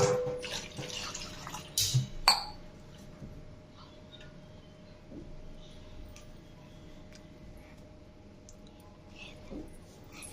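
Water poured from glasses into a pot to make guava leaf tea, with a few splashy bursts in the first couple of seconds, then a quiet stretch with faint drips and small clicks.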